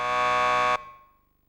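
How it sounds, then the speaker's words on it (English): A door buzzer in the Max Payne 2 video game lets out one harsh, steady electronic drone for under a second, then stops sharply and leaves a short fading ring. "Just press the buzzer by the door."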